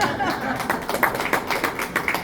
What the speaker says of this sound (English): Y'all give Anna a round of applause for her genius